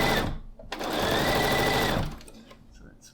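A sewing machine runs a quarter-inch quilt seam in a short, close burst of rapid stitching lasting about a second and a half, with brief handling noises before and after.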